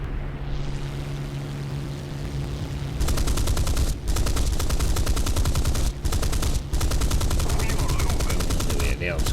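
Aircraft guns in an arcade air-combat video game with a Bf 109 F-series fighter, rattling out long rapid bursts that start abruptly and are broken by brief pauses, loud and close over the engine drone.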